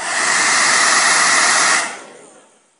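A hair dryer blows heat onto a nail shield, a loud steady close whoosh that runs for nearly two seconds and then cuts off and fades away.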